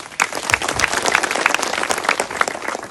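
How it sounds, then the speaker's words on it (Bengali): Applause from an audience at an outdoor courtyard meeting, a dense, steady round of many hands clapping for nearly three seconds with no talk over it. "বোনের জন্য সবাই একটা জোরে তালি মারেন।"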